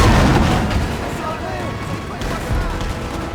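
Cannon fire in Napoleon: Total War, a dense battlefield roar of booming artillery and gunfire that is loud and continuous throughout, with a voice talking over it.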